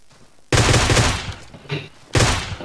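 Gunfire in the battle royale video game PUBG, two loud bursts of rapid automatic shots close by, with a fainter shot between them.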